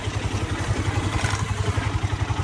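A Polaris 500 golf cart engine with a loose exhaust runs with a rapid, rattling, uneven putter, like an idling motor, loud and close, no voices.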